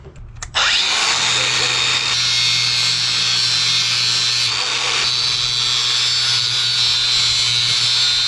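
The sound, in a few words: power tool cutting a slot into carriage bolt heads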